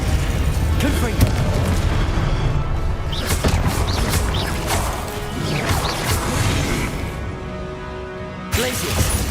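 In Hogwarts Legacy, the Confringo blasting spell goes off in a run of booming explosive bursts and crashes amid dense game noise, loud and close, with a voice speaking among the blasts.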